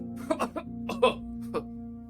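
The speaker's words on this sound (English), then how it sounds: "His chuckle turns into a cough." A few short, rough coughs in quick succession, a chuckle turning into a cough, over a low steady hum, fairly close and moderately loud, in the game Roadwarden.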